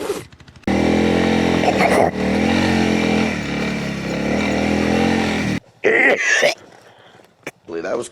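A BMW GS motorcycle engine labours loudly and steadily while climbing a very steep slope, holding a strained note for several seconds before cutting off, followed by brief bursts of revving and scattered quieter sounds near the microphone.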